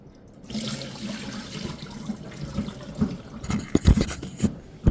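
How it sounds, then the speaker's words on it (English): Peeled potatoes are rinsed under a running kitchen tap, steady splashing water close by with louder clattering surges as the potatoes are turned in the stream. "So now after peeling the potatoes, I'm just gonna rinse through"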